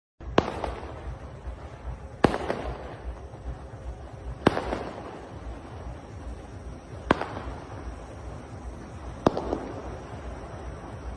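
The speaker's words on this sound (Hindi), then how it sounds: "उनके एरिया में पटाखे फोड़े जा रहे थे" Firecrackers set off in a residential neighbourhood after a cricket match burst in five sharp cracks spaced a couple of seconds apart, each echoing, over a steady background rumble of crowd and street noise.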